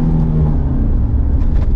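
Engine of a 2020 Fiat Strada pickup while driving, a steady low rumbling drone heard from inside the cab, continuous and fairly loud with no talk.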